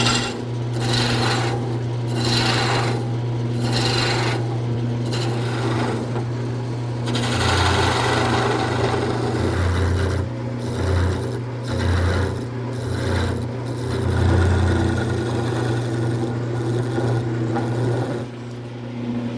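Wood turning on a lathe for a quilt rack, with gouges and a scraper cutting the spinning workpiece, giving loud rasping, scraping passes in repeated strokes over a steady motor hum.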